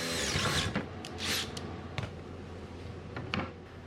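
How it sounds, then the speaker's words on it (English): A drill boring recess holes into a wooden board with a Forstner bit, heard as short whirring bursts with brief pauses between them, fairly quiet overall. "We'll then take a Forstner bit or similar and recess a couple holes so our support bolts will be hidden down within the board"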